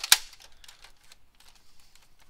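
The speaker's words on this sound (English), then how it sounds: "So now we're going to fire cut down stock darts" A prototype Longshot SG hybrid foam blaster fires a hand-loaded cut-down stock dart: one sharp snapping crack at the start, followed by faint light clicks and handling noise.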